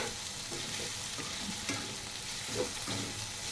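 Veg noodles with soy sauce and other sauces are tossed and stir-fried in a pan, street style. A steady close sizzle carries repeated scraping stirs of the spatula throughout.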